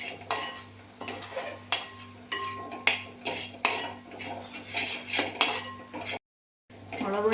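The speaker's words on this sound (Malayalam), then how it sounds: "ഇതിൻ്റെ പച്ചമണം മാറുന്ന വരെ നന്നായിട്ട് ഇളക്കി കൊടുക്കാം" A spoon scrapes and clinks against a pan as coriander powder and other spice powders are stirred on low flame, with repeated rhythmic strokes, a faint sizzle beneath, and a short silent gap near the end.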